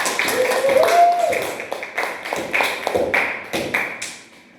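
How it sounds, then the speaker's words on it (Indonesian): In a microteaching classroom lesson, a group of students claps in short uneven bursts mixed with tapping sounds, while voices talk and a brief tone sounds underneath. "tepuk tangan untuk Mbak Novia."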